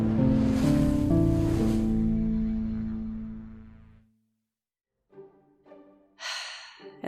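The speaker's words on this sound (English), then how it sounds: "And there's the train." Train passing near railroad tracks, a loud rumbling roar with steady tonal hum that fades away over several seconds, followed by quieter scattered noises and a brief hiss.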